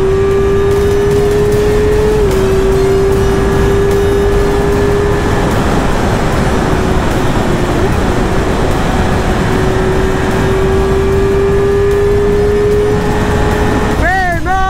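A Yamaha R6 sport motorcycle carrying a rider and passenger holds a steady, loud engine drone under heavy wind rush, with voices talking over the ride.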